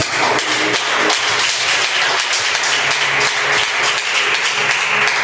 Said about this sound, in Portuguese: Aplauda alguém